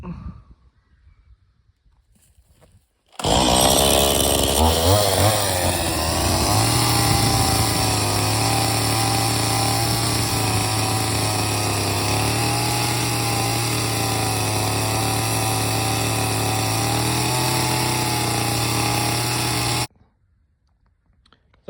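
A Stihl MS170 chainsaw smoothing a wooden yard post starts abruptly after quiet and runs loud and close with a steady high buzzing whine for about seventeen seconds, then stops suddenly.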